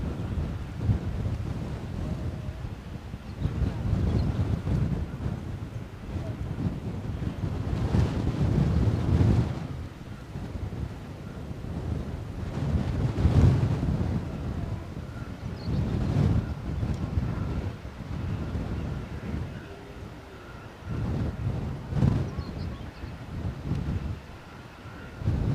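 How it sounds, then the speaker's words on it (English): Wind buffets the microphone in sustained low, rumbling gusts that rise and fall throughout, at an outdoor plane-spotting spot in Edinburgh, with no talking. "Wish the wind had stopped buffeting."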